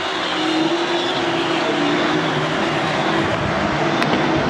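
1200 mini sprint cars racing on the clay oval at Deming Speedway in an A-main, a loud continuous high-revving engine whine from a pack of cars, sustained and droning without breaks.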